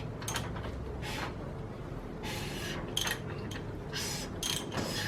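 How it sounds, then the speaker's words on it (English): The crankshaft of a Chrysler/Plymouth flathead engine under rebuild is turned by hand, producing several short bursts of ratcheting mechanical clicks and metallic scraping separated by brief pauses, close and fairly quiet. "So we'll rotate this crank around and see how she feels."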